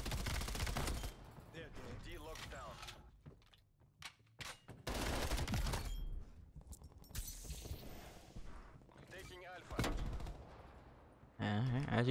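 An MP5 submachine gun fires in Call of Duty: Black Ops Cold War: loud, rapid automatic bursts broken by short pauses, with other distant shots and battle noise mixed in and players talking over the action.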